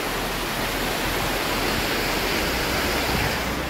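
Water pours down the Navnakond waterfall as a loud, unbroken broadband roar, steady and close throughout, with no other sounds.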